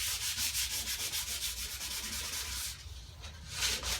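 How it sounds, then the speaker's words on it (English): Steady rhythmic hand sanding of the roof of a 1964 Mk1 Mini, a rough scratchy rubbing repeated in quick even strokes, close and continuous with a brief change in stroke partway through. "I've been sanding the back end as well"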